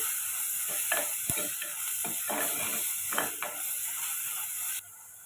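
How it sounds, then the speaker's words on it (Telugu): Onions and green chillies fry in a pan for a spinach and garlic curry, giving a steady sizzle with a few scraping stir strokes. The frying noise drops away abruptly near the end. "ఆనియన్స్, పచ్చిమిర్చి మనకు మంచిగా ఫ్రై అవ్వాలి."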